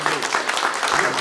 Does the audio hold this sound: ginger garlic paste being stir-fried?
no